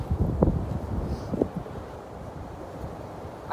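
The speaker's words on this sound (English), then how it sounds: "You probably can hear the wind." Wind blows outdoors, buffeting the microphone with a low, rumbling roar that swells and eases, with a few brief gusty thumps and no speech.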